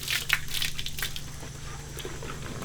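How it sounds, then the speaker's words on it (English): Fresh water from a garden hose rinsing a surfing wetsuit, a continuous splashing and spattering with a few sharper drips and squishes near the start, steady and close. "just quickly wash it out with the hose, just some fresh water"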